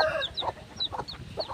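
A mother hen clucks softly and repeatedly nearby while her newly hatched chicks give thin, high peeping chirps in short bursts over the top.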